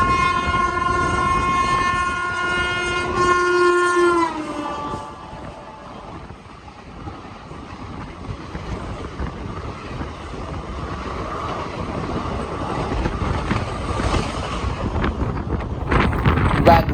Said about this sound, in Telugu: కర్నూలు టౌన్ హైదరాబాద్ హండ్రీ ఎక్స్ప్రెస్ మనం క్రాస్ చేసుకుంటూ వెళ్ళింది